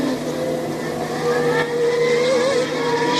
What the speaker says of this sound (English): Mansell now has a lapped car between himself and Senna to give him a little breathing space